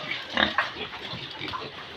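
Pigs on a small backyard pig farm grunting and squealing in a dense, continuous jumble, with a few sharper squeals standing out near the start and no voices over them.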